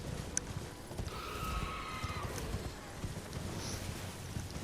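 Horse hoofbeats while riding in Elden Ring, a soft, rhythmic clip-clop under a windy ambient background, moderately quiet and without speech.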